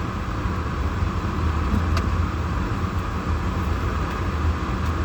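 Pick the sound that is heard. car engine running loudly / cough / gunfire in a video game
car engine running loudly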